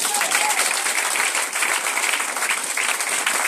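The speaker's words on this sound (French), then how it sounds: "Est-ce qu'on peut acclamer Jésus?" Church congregation applauding and cheering for Jesus, a dense, steady wash of many hands clapping with voices mixed in, loud and continuous throughout.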